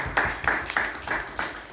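An audience at a Mike Huckabee campaign stop in Winterset, Iowa claps in a brief, moderately loud burst, with several distinct hand claps standing out in an uneven rhythm and no talking.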